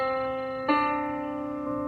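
On piano, a whole step rings out as one sustained note followed by a second strike a step higher, each clear and resonant with no voices over them.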